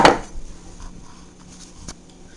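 A metal 8-inch square baking pan clanks once sharply against a hard surface, then a few faint knocks and light taps follow in a quiet kitchen.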